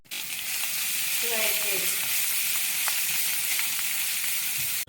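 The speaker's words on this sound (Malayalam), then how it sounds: "1 ടേബിൾ സ്പൂൺ വെളുത്തുള്ളി ചതച്ചതും 1 ടേബിൾ സ്പൂൺ ഇഞ്ചി ചതച്ചതും കുറച്ച് കറിവേപ്പില ഇട്ട് വഴറ്റിയെടുക്കാം" Crushed garlic, ginger and curry leaves sauté in hot oil for a Kerala beef curry, giving a steady loud sizzle with a brief burst of spluttering early on and a few scraping stirs.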